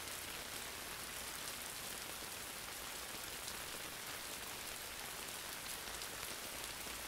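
Light rain falls steadily on a surface, a dense, even hiss of drops that stays soft and constant throughout with no voices.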